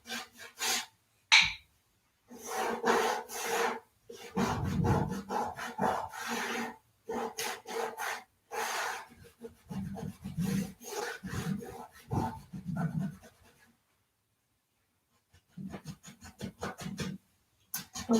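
Wax being rubbed by hand onto an old wooden desk, working back over areas already wiped and out to the edges: close, rasping scrubbing strokes in bursts of varying length with short pauses between, no talking.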